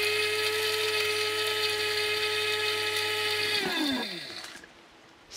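Electric grinder whirring steadily as it blends egusi seeds, a loud continuous high-pitched motor whine that winds down and stops near the end.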